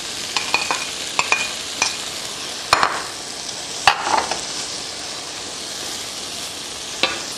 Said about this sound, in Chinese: 现在我们放入这个葱段啊